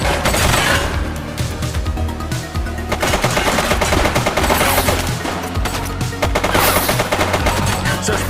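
Continuous heavy automatic gunfire in The Precinct video game during a police shootout with an armed suspect, dense overlapping shots sustained loud throughout over a rumbling background.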